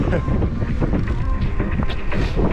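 Wind blowing along the Crimean coast, a loud, continuous low rumble buffeting the microphone with small fluctuations in strength, alone without speech.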